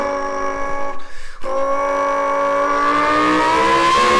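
A man imitates a revving car engine with his mouth, a sustained tonal roar that breaks off briefly, then climbs steadily in pitch like an accelerating engine, loud and close with no other voices.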